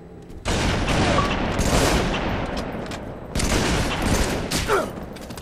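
Sustained bursts of automatic gunfire from a Halo 3 multiplayer match, loud and dense, starting abruptly after a brief quiet moment and rolling on with a second heavy burst near the end.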